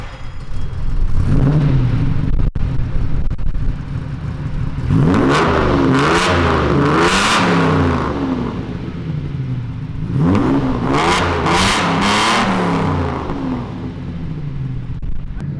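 Lamborghini Espada with a newly built custom exhaust, revving hard twice in long rising-and-falling bursts after a brief idle, loud and close.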